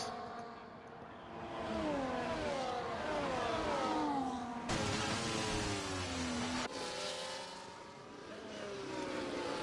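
Several F1 24 race cars, including a Haas, scream past during a close overtaking fight in the Brazilian Grand Prix, engines whining through rising and falling gear pitches, with a sharp burst as a car sweeps by near the middle, loud and continuous.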